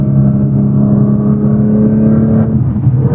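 A new sports car replacing a BMW M3 (F80) runs with a deep, steady engine drone, close and loud, holding an even note with a slight shift near the end.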